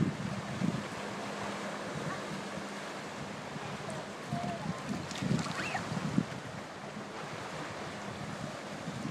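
Lake waves wash onto a camp beach in summer, a soft continuous surf with gentle swells breaking nearby, mixed with wind buffeting the microphone.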